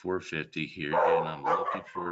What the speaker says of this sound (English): here my dogs are barking, so sorry for the background noise